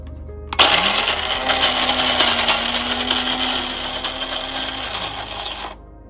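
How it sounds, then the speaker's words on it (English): Coffee beans ground fresh in an electric grinder, a loud steady whirring grind that starts abruptly, holds for about five seconds with a slight drop in pitch as the beans break down, then cuts off. "Start making the coffee or espresso with some good beans. Grind them up fresh in the morning."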